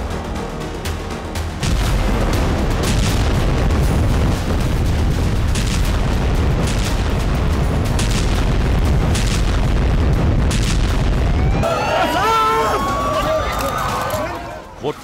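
A Spice 2000 smart bomb detonates on its target in the Israel–Gaza war, a deep sustained rumbling boom that dominates for about ten seconds before cutting to quieter sound with whistling tones.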